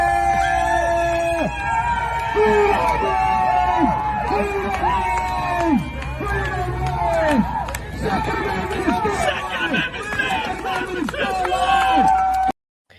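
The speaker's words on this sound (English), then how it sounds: "a crowd that was gathered outside the Kenosha courthouse shortly after the verdict was delivered, and a big gathering of people cheering this" A large crowd gathered outside the Kenosha courthouse after a verdict, loud chanting and cheering with shouting voices and whistles, sustained and close.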